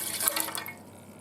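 Water poured into the pan of a Zojirushi Home Bakery Supreme bread machine, a short splashing trickle that is loudest at the start and thins out over about a second, heard close and alone.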